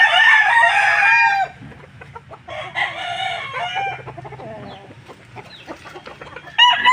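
Pet chickens and a rooster at a backyard with goats, loud close crowing and clucking in several bursts, with quieter clucks and background farm noise between them.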